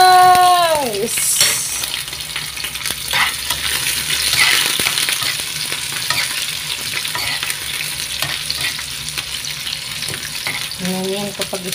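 Sliced onion sautéing in a pan for squid adobo, a loud continuous sizzle with scraping stirs, briefly overlapped by a voice at the start and end.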